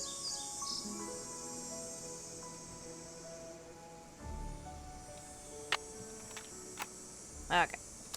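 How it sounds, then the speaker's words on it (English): An American goldfinch song plays from a tape recorder in a Nancy Drew game, faint high chirps and twitters over quiet background hiss, with a few sharp clicks and brief soft thumps near the end. "American goldfinch."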